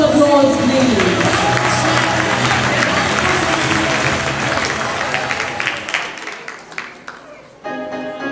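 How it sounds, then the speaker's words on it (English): Audience applause at a fashion show, with steady clapping and some cheering that fills most of the clip, then thins out and fades near the end. "Can we give her a wonderful applause, please?"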